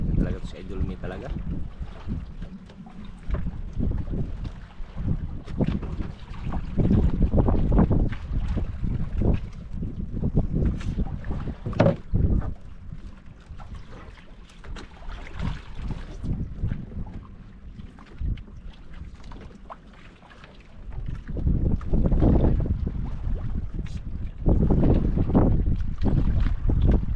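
Wind gusting outdoors around a boat on open water, steady blustery rush with louder gusts toward the end, with people talking intermittently.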